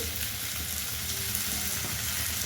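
Onion and tomato fry in a pan with a constant soft sizzle and faint bubbling, close and steady, no voices.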